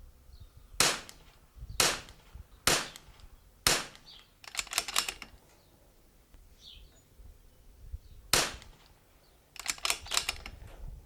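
A Tikka T1x... no, a B14R precision rimfire rifle fires a series of sharp, cracking gunshots outdoors, starting with a cold-bore shot, with single reports spaced about a second apart and a few quicker clustered bursts, with no talk.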